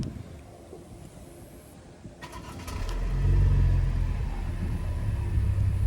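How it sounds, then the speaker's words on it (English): A 2018 Buick Regal TourX comes to life by remote start: quiet ambient noise, then a low exhaust rumble swells in and settles into a steady, soft idle burble. "So let's go ahead and do that real quick and listen to the exhaust."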